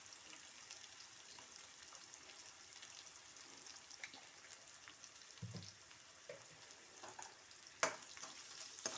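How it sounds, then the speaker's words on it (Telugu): Onions with salt sauté in a pan, a soft, steady sizzle and crackle that stays faint throughout, broken by a few small clinks and stirring sounds. "ఆనియన్స్ మగ్గింది కదండి"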